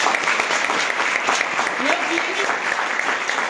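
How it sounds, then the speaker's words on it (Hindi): An audience at a Modicare seminar in Bhawani Mandi claps loudly and continuously for parents in attendance, dense sustained applause filling the room with some voices mixed in. "एक बार हमारे सारे माता पिताओं के लिए जोरदार ताली बजाते।"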